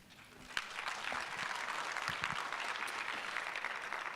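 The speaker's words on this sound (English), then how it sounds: "Can you give him another round of applause?" Sustained audience applause at a vocational education conference fills the hall, a dense even wash of clapping at moderate distance that holds steady throughout.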